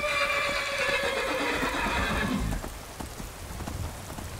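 A horse in the Skyrim video game gives a loud whinny followed by a run of clip-clopping hooves, close and clear, with a faint rain-like patter underneath.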